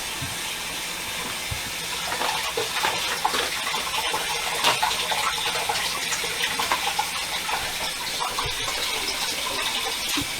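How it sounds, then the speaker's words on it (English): Cold tap water runs steadily over baby bella mushrooms being washed in a kitchen, a continuous hissing splash with small rubbing and rinsing variations and no talking. "I'm going to wash these in cold water."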